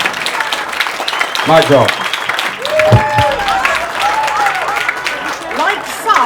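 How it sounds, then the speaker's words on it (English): Wedding guests applaud in a dense, continuous round of clapping, with someone speaking briefly over it and cheering voices mixed in throughout. "I want you all to give them a massive fucking round of applause."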